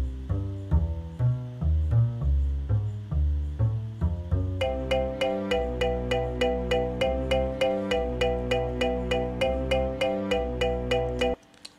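Two arranged sections of a music score played back one after the other: a mellow, low plucked melody gives way to a brighter, steady, evenly pulsed repeating keyboard-like pattern, clear and alone without talk.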